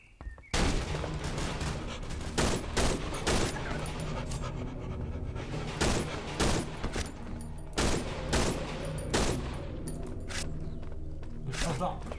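Gunfire from a weapon in the horror video game Cry of Fear, sharp shots repeating in bursts over steady game sound while people talk throughout.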